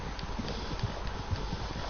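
Horse hooves clip-clop at a steady walking pace in the Red Dead Redemption 2 video game, moderately close over a constant ambient background with no speech.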